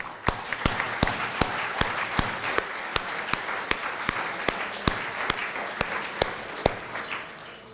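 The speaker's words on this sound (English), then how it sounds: "let me give an applause to all the speakers of this conference and to the program committee who found them" A conference audience applauds, dense sustained clapping from many hands with a few sharper close claps standing out at regular intervals, continuing evenly for several seconds before easing slightly at the end.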